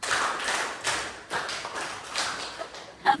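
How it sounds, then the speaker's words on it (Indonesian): Schoolchildren in a classroom clap together in an ice-breaking clapping game, a run of loose, slightly ragged group claps in several bursts, with a sharper single clap near the end. "ice breaking ya, dengan tepuk tangan"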